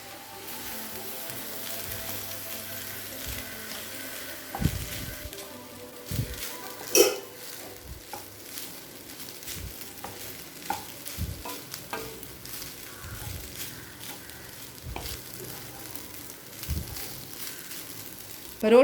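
Chicken fried rice with soy sauce and vinegar being stirred in a hot pan, a quiet background sizzle broken by sharp scrapes and clinks of the spatula against the metal, irregular and close.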